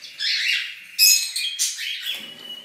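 A male and female pet bird pair, opaline and lutino, giving close, loud chirps and squawky calls in quick bursts, with no talking.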